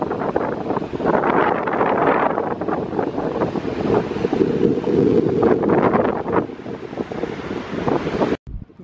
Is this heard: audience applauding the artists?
no